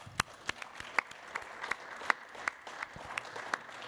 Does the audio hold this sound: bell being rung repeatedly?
no